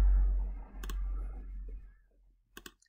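A computer mouse clicks a few times while roughly tracing a selection in GIMP, two sharp close clicks separated by a pause, over a fading voice at the start.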